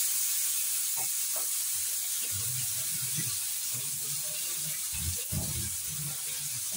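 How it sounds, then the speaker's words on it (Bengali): Potatoes frying in a pan with nigella seeds and green chilies, a constant bright sizzle with a few soft stirring bumps underneath. "আলুটা ভাজা হোক।"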